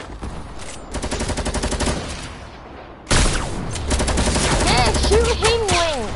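Fortnite Creative gunfire comes in rapid automatic bursts, loud and close, then a louder stretch of continuous shooting with whistling, sweeping game effects on top.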